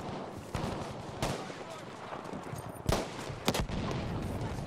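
Heavy main battery guns firing in a video game, with several loud booming shots spaced irregularly over a dense backdrop of constant battle noise and scattered smaller gunfire.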